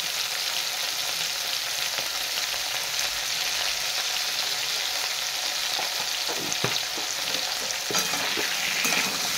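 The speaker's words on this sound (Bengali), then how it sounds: "এভাবে নেড়ে চেড়ে নেবো।" Potatoes with salt frying in a pan and being stirred, giving a steady, close, bright sizzle throughout, with soft scraping stirs toward the end.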